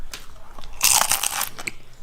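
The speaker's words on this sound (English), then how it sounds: "That was good and crunchy." Bite into a crunchy taco shell with melted cheese: a loud, close crunching burst lasting about half a second, followed by a few smaller crackling chews.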